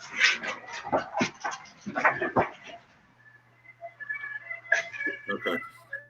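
A dog whimpering and whining indoors, with a burst of short yips and breaths followed by thin, high whines, all fairly close and quiet.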